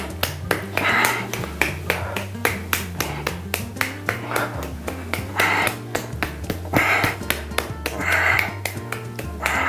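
Hands held in Adi mudra are tapped together for acupressure, producing rapid, regular sharp claps close up, continuing steadily throughout over a low background hum.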